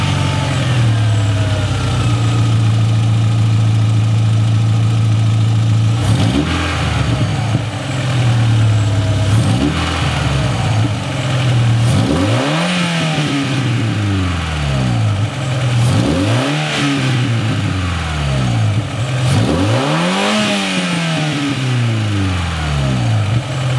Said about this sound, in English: we're gonna be able to turn the car on and see how it sounds